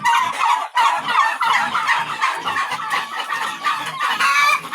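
Hungry farm chickens kept as backyard stock, clucking and squawking together in a loud, dense, restless chorus, close by and without a break.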